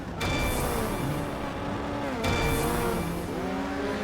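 Several racing cars in a video game run bunched together in a pack, their engines blending into a loud, steady roar with rising and falling pitch. A brief break in the sound occurs partway through.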